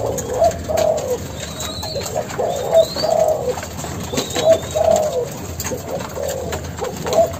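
Several Malaysian spotted doves coo in repeated soft, low rolling phrases close by, over a steady background hum.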